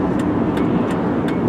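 A black 1999 Mercury Sable LS turning around, heard as a steady, fairly loud wash of engine and road noise with a few faint higher ticks, with no one talking.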